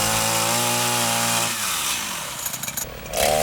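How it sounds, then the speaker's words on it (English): A chainsaw cuts away the lower branches of a dead tree, a loud steady whine that shifts pitch as the chain bites into the wood, with rougher rasping toward the end. "Use a chainsaw to cut away lower branches"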